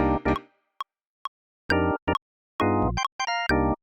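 Choppy 90s UK garage-style synthesizer chord stabs in a syncopated rhythm, short bursts separated by gaps and single blips, played alone with no talking.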